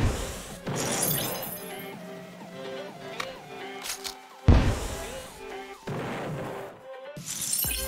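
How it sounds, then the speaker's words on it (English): Lego bricks smash in the Roblox video game in several sharp crashing bursts scattered across the stretch, with a voice talking in between and quieter clattering debris. "I'm just smashing up Lego."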